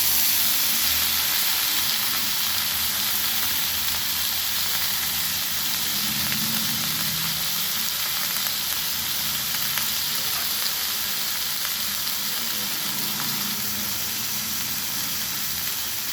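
Ginger paste sizzles steadily in a hot pan while cooking a bottle gourd curry, a loud continuous frying hiss with faint stirring underneath and no talking.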